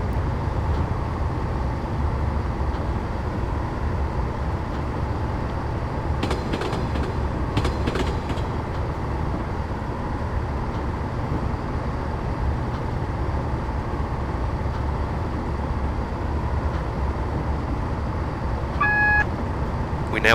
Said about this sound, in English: I'm now going to idle the power and allow the train to coast